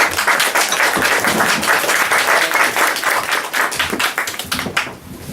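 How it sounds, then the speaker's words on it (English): Audience applause for an author taking the stage, a dense, steady burst of clapping that holds loud for about five seconds before tapering off at the end. "Let's give a huge round of applause to Christopher Ryan."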